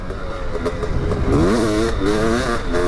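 A 500cc two-stroke motocross bike on a dirt test track, its engine revving loudly and close by, with the pitch climbing and dropping through repeated throttle blips.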